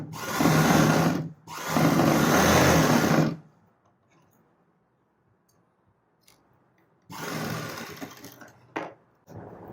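A sewing machine stitches a blouse strip in two loud, steady bursts: one of about three seconds with a brief gap, then a shorter run after a quiet pause, with no talking.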